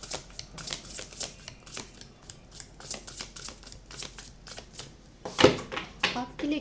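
Tarot cards are shuffled close by in quick, repeated riffles and soft flicks, ending in a louder snap of the deck near the end.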